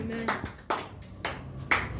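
A church congregation claps in praise during a Swahili sermon, with a few separate, sharp bursts of hand claps spaced apart over a low murmur of voices.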